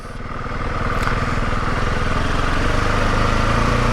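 A 2026 KTM 690 Enduro R single-cylinder engine idles with a steady, fairly quiet rumble, a low even thump close by that holds at a constant level with no talk over it.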